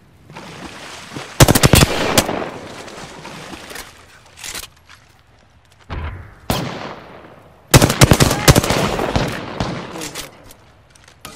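Gunfire in the video game Apex Legends: loud bursts of rapid automatic fire in two long volleys, separated by quieter stretches with single shots and game effects.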